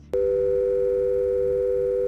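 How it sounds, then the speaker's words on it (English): A steady telephone dial tone comes on abruptly after a short click and holds unbroken and fairly loud once a call has cut out, with no voices over it. "Phone cut out."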